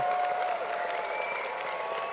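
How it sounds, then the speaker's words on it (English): Sustained applause from a large crowd at a University of North Dakota winter commencement for professional and graduate degree recipients, an even, continuous roar of clapping with a faint tonal hum beneath. "we'll wait one more moment so we can give them one more hearty round of applause"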